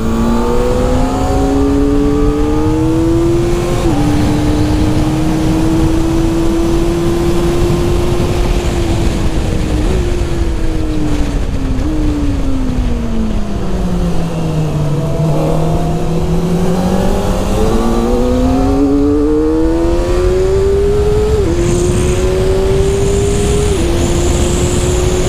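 A 2023 Kawasaki ZX400RR motorcycle engine revs loudly and continuously while being ridden, its high-pitched whine climbing, dipping through gear changes and rising again.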